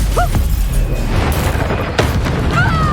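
Loud magical blasts from Bombarda and Confringo spells in Hogwarts Legacy, with heavy booming explosions over a dense, rumbling game soundscape and a sharp crash near the end.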